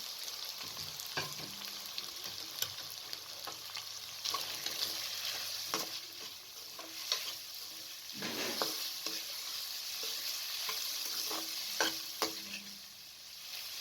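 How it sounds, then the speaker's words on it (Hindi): Minced meat fried over medium heat with added spices for a bhindi keema, giving a continuous sizzle with regular spatula scrapes and stirring strokes throughout. "अब तमाम मसाला जात को डालकर मज़ीद 3 से 4 मिनट तक भून लें।"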